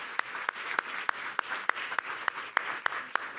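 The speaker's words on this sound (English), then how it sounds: "let's give our panel another round of applause" Slow, evenly spaced claps for a panel at an academic talk, about three per second, sharp and distinct over a quiet background, with only a few hands clapping.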